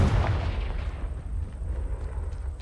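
A Confringo explosive spell bursts in Hogwarts Legacy, a loud close boom with a rumbling low tail that fades over a couple of seconds.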